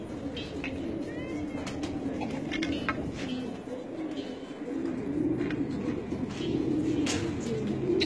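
Pigeons coo softly nearby in low, repeated murmuring calls, with a few faint chirps and background bustle.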